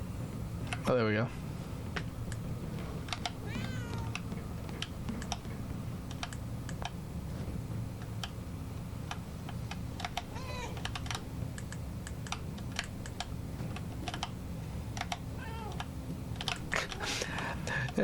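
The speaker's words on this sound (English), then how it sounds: "I can make the cat meow." A few short cat meows from the game Murdered: Soul Suspect come over constant keyboard typing and clicks, with a low hum underneath.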